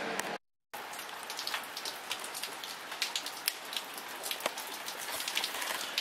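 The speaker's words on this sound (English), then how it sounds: "It's raining!" Steady rain falling outdoors, a dense, even hiss with scattered louder drops pattering on a nearby surface, continuous apart from a brief cut near the start, with no voices.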